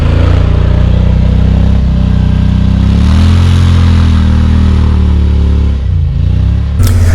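A 2020 Yamaha Wolverine X2 XTR side-by-side in two-wheel drive climbs an off-road obstacle. Its engine runs loud and close throughout, with a rising surge of revs midway and a brief drop near the end.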